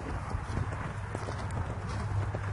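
Horse hooves clip-clop steadily over open ground during cross-country riding training, a soft rhythmic series of close hoofbeats over a low outdoor rumble, with no talking.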